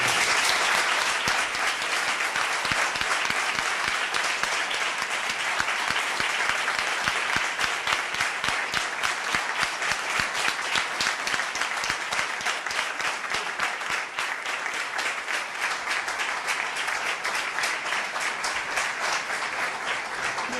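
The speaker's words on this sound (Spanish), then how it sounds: "os pido un fuerte aplauso" Sustained, steady applause from a conference audience, dense and even with many hands clapping rapidly for the full stretch and no talk over it.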